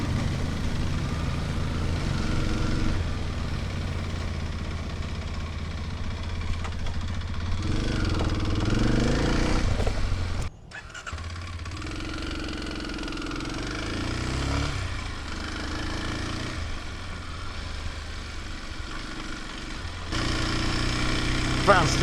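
A Kawasaki KLX 230 Sherpa motorcycle engine runs on a street, a steady mid-pitched thrum with several rev rises and falls, a brief sharp drop near the middle, then a fuller throttle toward the end.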